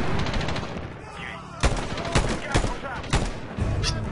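Medal of Honor gunfire in single-shot mode: a handful of sharp, separate rifle shots at uneven intervals over a busy combat background, with more distant firing in between.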